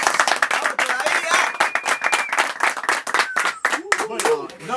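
Studio audience clapping and cheering to welcome guests on a Flow Fest program, loud and close with dense irregular claps, while voices shout and talk over the applause and a sung or spoken line emerges near the end.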